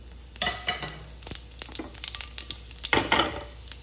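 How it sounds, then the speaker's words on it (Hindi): Cumin seeds, about one spoonful, dropped into hot oil for chole: sharp crackling sizzle bursts with scattered pops and a stirring scrape, loudest at the start and again near the end, close and without speech. "तो ऑयल तो हो चुका है गर्म, ये भी इसमें ऐड करूंगी मैं 1 चम्मच जीरा"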